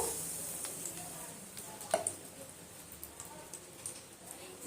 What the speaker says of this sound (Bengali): এবার আমি এক হাতা ব্যাটার নেব আর এই ফ্রাই প্যানের মধ্যে দিয়ে দেবো